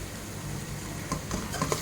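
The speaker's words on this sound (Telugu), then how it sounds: "ఇప్పుడు మనం కట్ చేసి పెట్టుకున్న ఉల్లగడ్డ క్యారెట్ వేస్తున్నాను వీటిని కూడా కొద్దిసేపు ఫ్రై చేసుకుందాం" Onion and carrot frying in a pan while mutton rice is cooked: a steady, low sizzle with a few light utensil clinks and stirring scrapes near the end.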